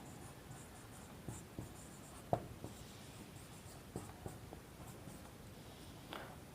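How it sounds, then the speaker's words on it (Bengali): Pen writing by hand during a maths lesson on trigonometry and angle measurement, soft scratchy strokes with a few light taps, quiet and close. "তাহলে আমি এখানে লিখতে পারি"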